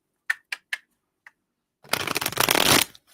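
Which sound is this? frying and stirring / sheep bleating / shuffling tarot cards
shuffling tarot cards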